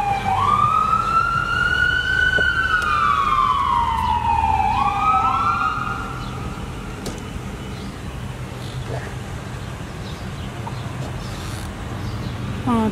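A fire department emergency vehicle siren wails loudly nearby, sweeping up and down for about six seconds over a steady engine rumble before dropping to a lower, more distant drone.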